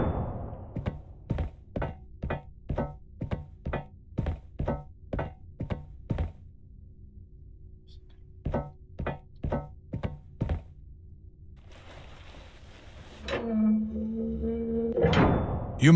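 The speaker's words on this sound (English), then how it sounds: "You must uncouple the safety latches." In the video game Return to Grace, safety latches are uncoupled: a rapid run of about a dozen sharp metallic thunks, a pause, then five more, followed by a rising mechanical hum.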